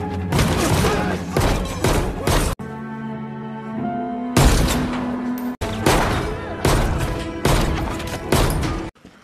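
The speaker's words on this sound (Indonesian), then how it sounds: "tanpa ampun Ji Hyun menembak sampai tak ada yang tersisa" Loud, dense bursts of gunfire from a film shootout, sounding as rapid sustained volleys broken by sharp cuts, with a short stretch of tonal music or droning sound between the bursts.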